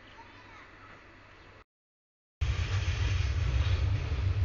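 Kurigram Express passenger train running toward Kurigram, a steady rumble heard from on board with a short dropout midway, after which the noise returns louder and fuller.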